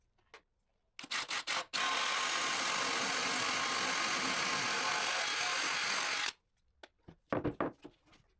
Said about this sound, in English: I drill holes for the hooks with a 25mm drill bit